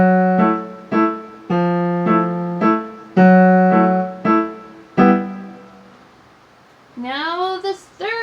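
A piano plays a line from Khachaturian's Waltz: a left-hand bass note followed by repeated chords in a steady waltz rhythm, clear and close, then a few quicker higher right-hand notes near the end.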